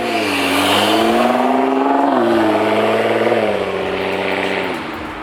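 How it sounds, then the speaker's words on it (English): A Nissan GT-R fitted with an Armytrix exhaust revs loudly and close, its engine note rising and falling over several seconds with a faint turbo spool, then easing off at the end. "You can actually hear the turbo spool a little bit."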